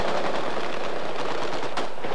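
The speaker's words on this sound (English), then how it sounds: "When gunfire interrupted the president's speech" Rapid bursts of gunfire ring out at a presidential election rally, dense crackling shots in a continuous volley with no voices over them.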